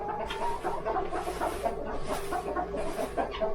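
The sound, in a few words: chickens clucking in a coop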